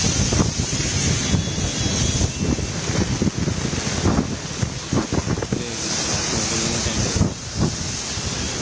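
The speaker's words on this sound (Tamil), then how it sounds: "மும்பையின் புகழ்பெற்ற மரைன் டிரைவ் பகுதியில் பரவலாக மழை பெய்த நிலையில் கடல் அலைகள்" Rough sea waves at Marine Drive in Mumbai during heavy rain, a loud continuous roar of surf crashing and washing, with strong wind buffeting the microphone throughout.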